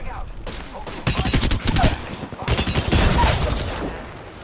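Rapid bursts of video game gunfire crackle loudly in several volleys, with a pause between, against busy game effects.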